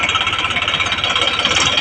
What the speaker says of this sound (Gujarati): ટ્રેક્ટર આવી ગયું ટ્રેક્ટર લઈને જવું ઘેર